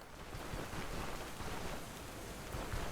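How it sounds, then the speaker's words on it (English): Steady rain falls in the medieval role-playing game Stoneshard, a dense, even hiss of downpour with no breaks, soft and continuous from start to finish. "Of course, it's gross and raining out today."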